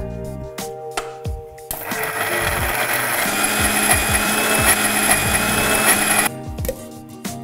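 Mixer grinder grinding gongura chutney with turmeric and salt, a loud continuous whirring buzz lasting about five seconds, with clattering kitchen handling sounds before and after.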